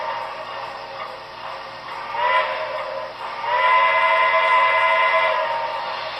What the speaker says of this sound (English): that was a grade cross sequence